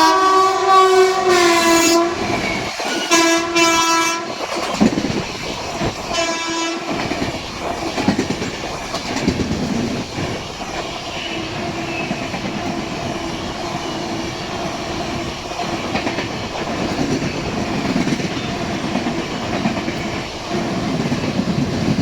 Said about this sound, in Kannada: ಒಳ್ಳೆ ಟ್ರೈನ್ ಬರ್ತಾ ಇದೆ